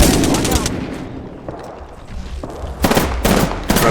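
Bursts of automatic gunfire in the battle royale shooter Apex Legends, heavy rapid volleys at the start and again near the end with quieter rattling between, while a player talks over the fighting.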